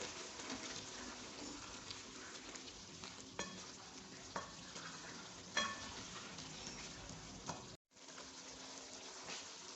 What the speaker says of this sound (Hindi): हम अब इसमें लहसुन का पेस्ट ऐड करेंगे, साथ ही अदरक का पेस्ट ऐड कर देंगे